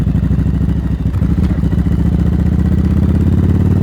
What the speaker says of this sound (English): this is a 40-year-old V-twin Yamaha